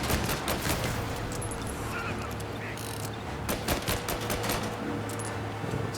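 Rapid bursts of video game pistol fire in Mafia: Definitive Edition crack in quick succession over a steady low hum, loud and close.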